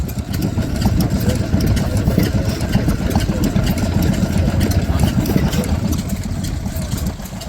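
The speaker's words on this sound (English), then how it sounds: "Here we've got, what are they calling it? Imperial Pit engine." A vintage Imperial Pit side-shaft stationary engine runs at a machinery rally, a steady rapid chugging with close mechanical clatter over outdoor background noise.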